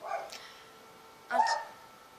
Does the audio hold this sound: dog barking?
yes